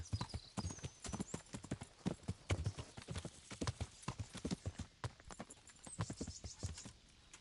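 Horse hooves clip-clop steadily at a walking pace in the medieval video game Kingdom Come Deliverance, a continuous rhythm of close, distinct hoof strikes that runs unbroken throughout.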